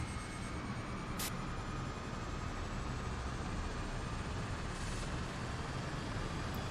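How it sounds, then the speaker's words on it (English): In a flight simulator game, an aircraft engine drones steadily while the plane taxis toward the runway for takeoff. The hum is continuous and broadband, with a couple of faint brief clicks. "Taxi to the runway and take off."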